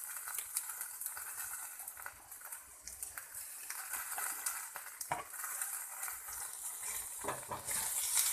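Freshly grated coconut frying in a pan for sambar, giving a steady broad sizzle with occasional stirring scrapes and clinks, close and fairly quiet throughout.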